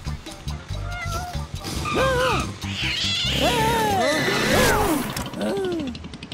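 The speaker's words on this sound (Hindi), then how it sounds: "बढ़िया बिल्ली।" A cat meows repeatedly, several rising and falling cries, over background noise and people talking nearby.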